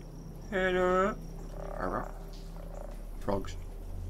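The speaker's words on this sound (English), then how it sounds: "Frogs." Frog croaks in the video game Antichamber, a short buzzy rasp followed by two fainter, softer croaks spaced over a few seconds against a quiet hum.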